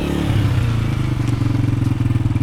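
A motorcycle engine runs steadily during riding practice in Pakistan, giving a loud, close, throbbing low drone with a rapid, regular pulse and no voices.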